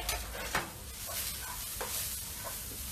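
Garlic bread grilling beside a pot of pasta in a home kitchen gives off a steady, soft crackling sizzle, punctuated by a few brief clicks and scrapes, with no one talking.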